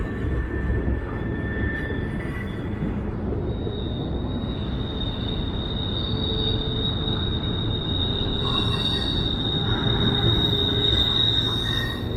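A freight train with a mid-train DPU locomotive rolls past, its wheels squealing in long high-pitched whines over a steady rumble of railcars, heard from a distance up high with no talk.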